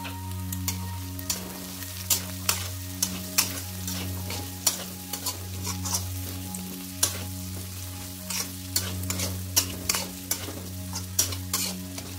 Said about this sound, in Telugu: బీన్స్ అండ్ క్యాప్సికమ్ వేసుకొని కూడా ఫ్రై చేసుకున్నాం